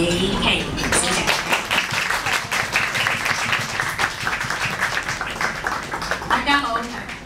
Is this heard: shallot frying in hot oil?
no